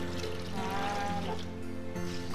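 Water pours and trickles steadily as underwear is rinsed by hand, a soft, close splashing that carries on without a break.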